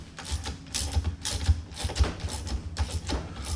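Mechanical clicking and ratcheting while a tailwheel assembly with springs and friction plates is tightened, a quick uneven run of close, moderately loud clicks and taps with no talk.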